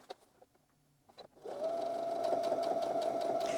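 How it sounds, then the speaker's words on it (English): A sewing machine stitches down a scrap string quilt block, starting after a quiet moment and settling into a steady, close, even whirring run. "And just sew all the way down."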